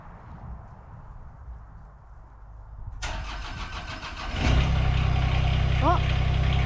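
A TYM tractor engine cranks and catches after a quiet lull, then settles into a steady, loud diesel idle. A voice speaks briefly near the end.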